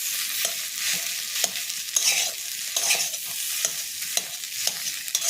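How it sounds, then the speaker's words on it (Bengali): Potato pieces frying in a pan for patol chop (stuffed pointed gourd fritters), a steady close sizzle with repeated scraping and stirring strokes throughout, no voices. "এইভাবে আলুটাকে একটু ভেজে নিতে হবে।"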